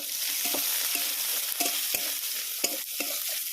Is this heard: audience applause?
no